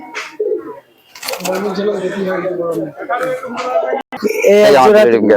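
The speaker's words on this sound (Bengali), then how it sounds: "দেখুন কবুতর দুটো দেখুন খুবই সুন্দর কবুতর আছে" Pakistani pigeons, a breeding pair, give low throaty coos close up, mixed with someone talking over them for most of the stretch.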